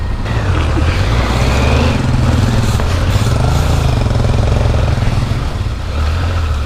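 Kawasaki KLR 650 dual-sport motorcycle engine pulling through a deep, muddy woodland trail alongside other bikes, a loud steady low drone held close throughout with faint voices underneath.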